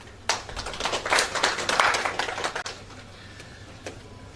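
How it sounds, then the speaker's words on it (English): Scattered applause at a women's economic empowerment conference, brisk clapping from a hall audience that swells for a couple of seconds and then thins out to a few lingering claps. "Applause kindly."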